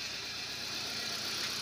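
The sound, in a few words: car engine idling with a slight misfire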